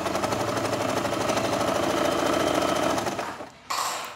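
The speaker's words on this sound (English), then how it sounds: "we're gonna keep ripping this on the sewing machine" A sewing machine stitches a hem in a steady, fast mechanical whir with rhythmic needle clatter, stopping near the end before briefly starting again, close and alone.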